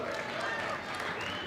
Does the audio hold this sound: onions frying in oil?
no